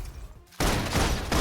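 Dense suppressing gunfire in the Love and Deepspace video game breaks out suddenly after a brief lull, a loud continuous barrage of blasts and crackling impacts that fills the rest of the moment.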